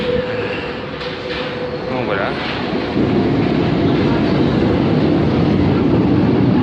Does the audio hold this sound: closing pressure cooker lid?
no